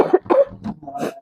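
A person coughs several times in quick succession, a close, loud cluster of rough bursts with short gaps between them.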